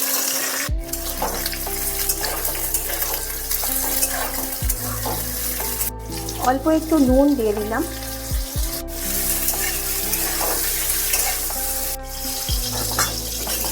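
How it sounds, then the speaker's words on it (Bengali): Cut eggplant fries in oil with a strong, steady sizzle, broken by several clattering stirs and knocks, while someone speaks briefly over the cooking. "কেটে রাখা বেগুনগুলো এবার এই তেলেতেই ভেজে নিচ্ছি"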